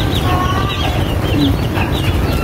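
Asil chickens cluck and murmur nearby over a constant low rumble, with a few soft, short calls.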